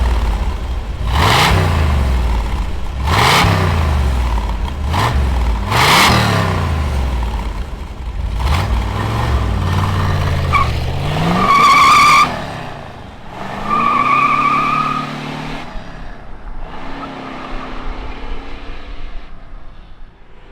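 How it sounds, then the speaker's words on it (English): A big 440 V8 engine in a 1970 Dodge Challenger R/T cranks and barks through repeated loud revs, each blip rising and falling, then settles into a rumbling idle between throttle bursts. "Let's fire up this 440 and let it roar."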